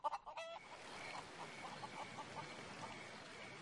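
Chicken clucking in the video game Haunted, a short burst of squawks at the start, then a steady bed of softer fowl noise and game ambience running throughout, fairly quiet.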